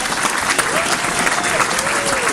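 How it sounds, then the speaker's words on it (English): Audience applause fills a room at a New York NY19 congressional debate, a dense steady wash of many hands clapping with some voices and a faint whistle mixed in. "let's give a round of applause to Otia, to Gladys, and the Ulster County Democratic women"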